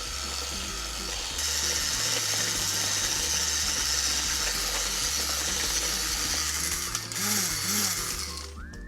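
Electric mixer beating pumpkin spice batter until smooth, a steady loud mechanical whir with rhythmic rattling and chattering, sustained without pause, with a couple of brief higher clatters near the end.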